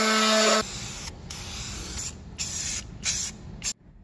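A pop-up headlight cover on a 240sx is spray painted with an aerosol can, several short hissing bursts of spray broken by brief pauses, close and clear.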